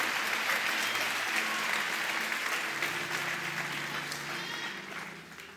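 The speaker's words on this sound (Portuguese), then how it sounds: "Pode aplaudir a Ele," A church congregation applauds during a sermon, the dense clapping steady at first and then slowly fading toward the end, heard fairly faint and without speech.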